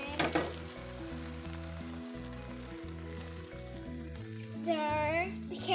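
Tuna pasta sizzling and being stirred in a pan, a moderate frying hiss running under background music, with a voice briefly heard near the start.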